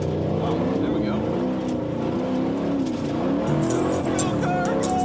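A 1995 Chevy Caprice 9C1 drives hard with a loud, steady engine drone and shifting revs, while people talk excitedly over it throughout.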